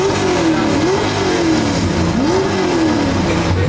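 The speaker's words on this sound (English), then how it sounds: "We're gonna start it up. Well, we're gonna fire it up" A loud LS V8 engine in an Ultima idles with a rough, rumbling tone, then revs up twice in rising and falling surges, sustained throughout.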